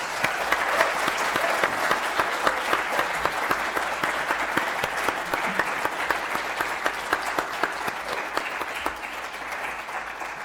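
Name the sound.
audience applause for the speakers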